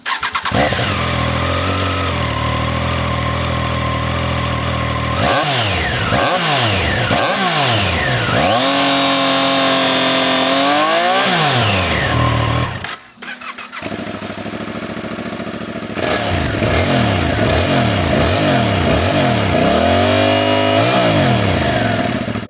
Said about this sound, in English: it has a lovely triple sound with a surprising amount of beefiness. Here's the Trident versus the MT-07 to give you an idea of what to expect.